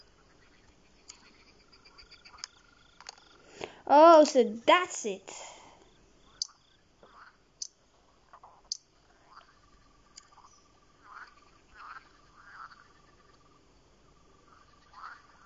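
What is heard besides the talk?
Sonic Frog croaking in Lost Lands video game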